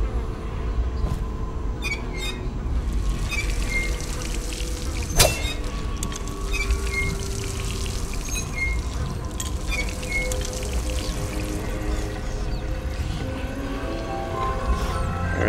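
Water pours from a faucet in the video game Dishonored, a steady rushing stream that runs continuously at moderate loudness with scattered clicks and a faint tonal hum underneath.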